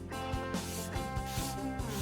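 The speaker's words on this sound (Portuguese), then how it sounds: "Agora a sua peça já está seca, então vamos lixar uma lixa para madeira." Sandpaper rubs across a dried wooden piece being prepared for a patina finish, giving a steady, close scraping texture that runs continuously with faint rhythmic strokes and no talking.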